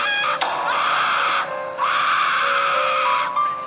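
A long, high, wavering scream-like wail heard at night near an abandoned gas station, rising and holding in drawn-out cries with brief breaks, loud and alone with no talking.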